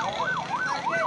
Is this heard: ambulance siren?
yes